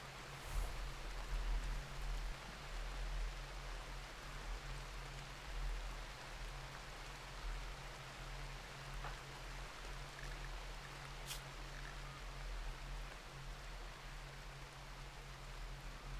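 Rain falling in RimWorld: a soft, steady hiss of rainfall with a low constant hum beneath it, fairly faint and even throughout, with no voices heard.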